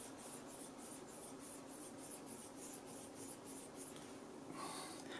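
Strips of abrasive paper rubbed back and forth over a Stratocaster guitar saddle, giving a steady, close rasping with a quick repeating stroke rhythm and no talking.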